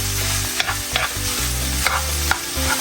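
Sofrito stirred in a hot pan, a steady close sizzle broken by a few scraping strokes of the spoon, with no talk.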